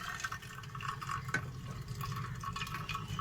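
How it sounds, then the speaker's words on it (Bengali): Water drains steadily from a pot of boiled taro flowers, a soft continuous trickle and splash with faint drips throughout, fairly quiet and nearby. "এরপর আমি জলটা ঝরাবো, ও জলটা ঝরে যাবে।"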